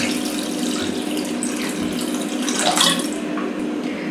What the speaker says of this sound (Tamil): இப்போ ரசத்துக்கு தேவையான அளவு தண்ணி ஆட் பண்ணிக்கலாம்.